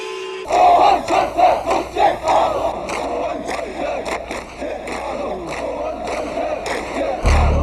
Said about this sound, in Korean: 거리에는 호원 철폐 독재 타도 이렇게 외치는 시민들의 함성이 울려 퍼졌습니다.